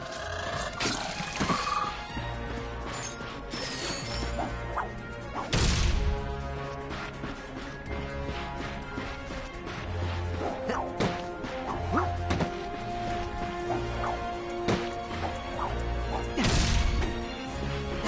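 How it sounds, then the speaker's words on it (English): Wooden crates being smashed in a Ratchet & Clank game: a run of loud crashing whacks and thuds at irregular intervals, with heavier impacts around the middle and end over a steady background of game music and effects. "Look at him smashing crates."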